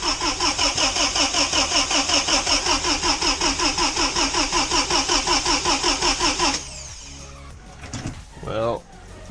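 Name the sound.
Pinzgauer truck engine starting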